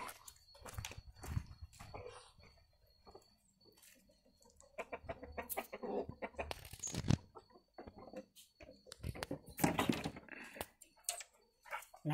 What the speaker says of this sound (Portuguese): E os patos, galinhas, galo. Eles estão indo dormir.